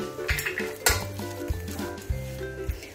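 Coarsely ground lentil paste for banana flower vada is scraped into a metal vessel, giving repeated clinks and knocks of a spoon against the pot in a steady rhythm, close and clear, with no talking.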